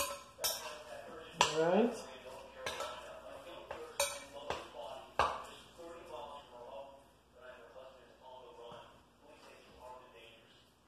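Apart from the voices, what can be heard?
spoon mixing turkey meatball ingredients in a bowl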